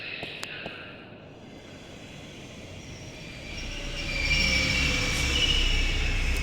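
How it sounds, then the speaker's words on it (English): A metro train in the video game The Longest Journey rolls into the station, its rumble building from quiet to a loud, sustained roar with high metallic wheel squeal and hiss, alone without voices. "Now we have to wait for the train."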